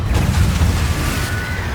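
A Confringo spell blasts in Hogwarts Legacy, a dense booming burst with heavy low rumble that holds steady for under two seconds, loud and close, with a thin whistling tone trailing over the top.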